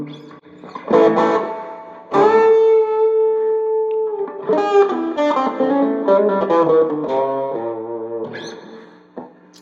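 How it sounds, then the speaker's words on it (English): A 1965 Guild T100-D Slim Jim hollow-body electric guitar played with overdrive, loud rock and roll chords and sustained bent notes ringing with a gritty, distorted edge throughout, no talking. "put some drive on it and get a nice rock and roll kind of sound."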